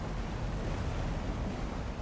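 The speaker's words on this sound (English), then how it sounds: "We gotta stop that waterfall." A waterfall in the video game Divinity: Original Sin 2 Definitive Edition on Nintendo Switch gives a constant, dense roar of rushing water that holds steady and fairly loud throughout, with no voices.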